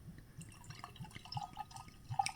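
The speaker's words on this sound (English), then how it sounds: "Let's pour this beer." Dark aged 13% craft beer, Chaos (Blue) from Counterpart Brewing, is poured from a bottle into a glass, giving faint, close gurgles and drips that come in small irregular bursts, with no talking.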